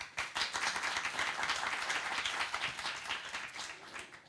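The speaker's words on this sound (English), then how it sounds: "Please give her another round of applause." Audience applause at a forum on artist mobility and creativity, dense steady clapping from a hall crowd filling the whole stretch, loud and sustained before tapering slightly at the end, with no talk over it.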